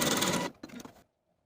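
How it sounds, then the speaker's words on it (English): A sewing machine zigzag stitches back and forth over elastic in a pants waistband, giving a loud, close mechanical whir for about half a second, then a shorter burst before it stops. "I'm going to take it to my sewing machine and zigzag stitch back and forth a few times to secure."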